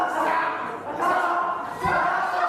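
Crowd chanting fills a live wrestling event during a knuckle-lock standoff in a UK triple-threat match, a steady roar of massed voices rising in two surges, loud and continuous.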